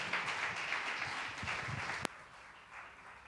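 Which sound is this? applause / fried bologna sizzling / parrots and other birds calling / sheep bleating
applause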